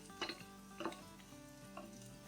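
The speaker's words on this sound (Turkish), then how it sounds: "Ve şöyle bir iki karıştırıyorum." Onions and garlic sizzle quietly in a pan while a utensil scrapes and stirs a few times, with light clinks at a steady, unhurried pace.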